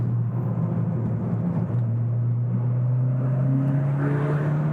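A car engine pulling hard at full throttle in second gear from about 60, a loud droning note rising steadily in pitch as it accelerates, heard from inside the cabin.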